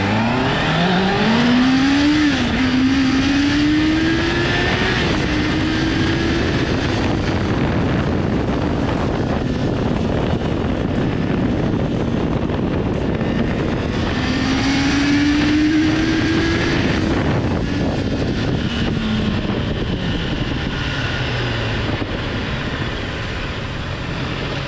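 A Honda CBR650R motorcycle engine on a short ride, its rising and falling rev tones sweeping up through the gears, loud and close over steady wind rush, with no talking.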